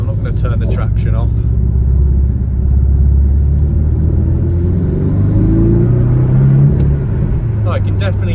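Porsche Cayman 718 fitted with a K&N panel filter, heard from inside the cabin on a damp road, with steady loud engine rumble and induction noise rising under acceleration and a brief whoosh from the recirculation valve; someone talks over it.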